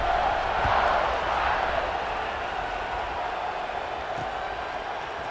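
A football stadium crowd at a Notre Dame versus Ohio State game produces a continuous, broad, distant roar that swells slightly at the start and then holds steady, with faint voices underneath.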